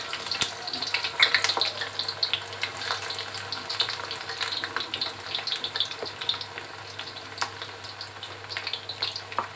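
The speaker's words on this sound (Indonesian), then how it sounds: "lanjut saya mau menggoreng terongnya dulu ya Bunda" Eggplant frying in a pan for a home-cooked stir-fried eggplant and anchovy balado, a steady close sizzle with crackling pops and occasional stirring scrapes throughout, no talking.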